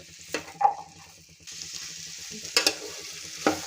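Vegetables and spices stirred and frying in oil for a traditional Bhogi vegetable dish, with a steady close sizzle broken by several sharp scraping stirs of the spoon against the pan.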